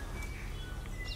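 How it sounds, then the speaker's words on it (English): Birds chirp thinly and faintly over a steady outdoor hush on an alpine trail, a few scattered short calls at a distance. "listening to birds as they chatter and talk"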